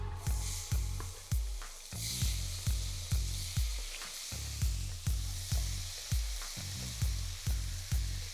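Chopped tomatoes dropped into hot tempering oil with mustard seeds, asafoetida and curry leaves, sizzling loudly and steadily, with rhythmic stirring scrapes repeating about every half second.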